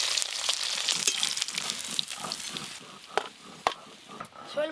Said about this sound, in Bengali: শোল মাছ তো ভাজা হয়ে গেল